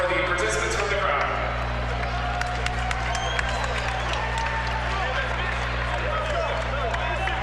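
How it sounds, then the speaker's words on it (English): A crowd in a basketball arena during a KW Titans vs. London Lightning game claps and makes noise, steady applause with a low hum underneath and commentary spoken over it. "makes some noise for the participants from the crowd"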